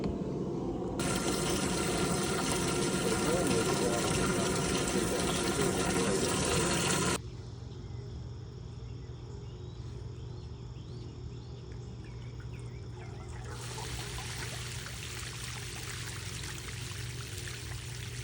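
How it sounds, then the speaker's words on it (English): Water poured to fill a sump pump pit in a crawlspace, a loud rushing pour that cuts off abruptly, then a quieter steady hum before a second softer rush of water, with insect chirps faintly in the background. "We're gonna fill it with water. We're gonna let it pump the water out."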